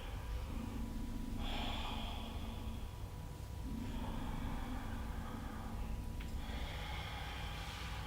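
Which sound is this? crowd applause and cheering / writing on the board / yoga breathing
yoga breathing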